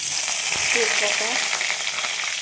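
Bay leaf, whole cumin seeds and dried red chili sizzle in hot oil as a tempering for a banana-flower dish, a loud, steady close-up frying hiss with a brief voice in the middle.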